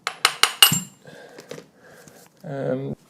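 Four quick, sharp metallic taps of a hammer on a turbo cartridge from a 1.6 HDi/TDCi diesel engine ring out at the start, followed by fainter clinks and a short voice near the end.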